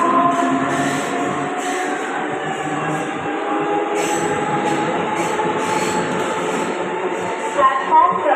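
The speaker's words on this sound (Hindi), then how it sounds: "एक जलद गाड़ी जाणार आहे." A fast express train rushes through Bhivpuri Road station, a loud, continuous roar of wheels and carriages with rhythmic clatter and screeching squeal, close by and sustained from start to end.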